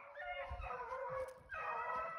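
A hound howls and bays while chasing rabbits, a faint, distant run of drawn-out wavering howls with a short break midway.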